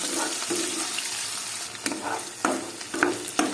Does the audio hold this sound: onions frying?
yes